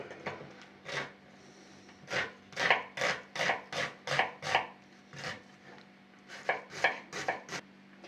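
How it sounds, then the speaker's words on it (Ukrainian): A knife chops onion finely on a board, sharp close taps arriving in quick bursts of several strokes with short pauses between. "Тепер мені потрібно нарізати дрібненьку цибулю."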